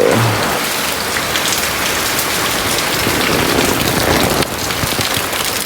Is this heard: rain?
yes